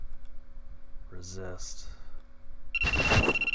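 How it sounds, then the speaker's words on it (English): A phone rings in the visual novel If My Heart Had Wings: a bright, steady electronic ringtone starts near the end, after a short burst of voiced sound over quiet background music. "Suddenly, my phone rang."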